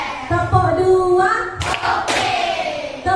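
A classroom of children clapping in a counting rhythm at an Indonesian school, sharp group claps bursting out between chanted words, loud and close as a teacher and pupils speak over them.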